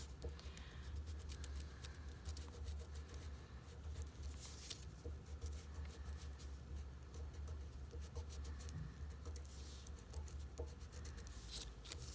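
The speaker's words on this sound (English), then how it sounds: "use a black crayon to trace around them" A black crayon traces around leaves laid on paper, making a continuous soft scratchy rubbing that scrapes steadily for the whole stretch, up close, with no talking.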